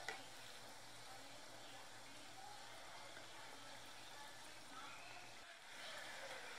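Lavang latika sweets frying in oil in a kadhai, a soft, continuous sizzle and bubbling that stays faint and even throughout.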